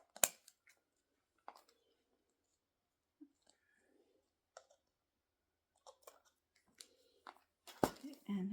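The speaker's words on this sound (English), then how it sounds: "now I can trim off this extra bit of gems here." Quiet, sparse snips and clicks, a few seconds apart, as scissors trim excess gem strip from a handmade Christmas ornament. A louder clack lands near the end.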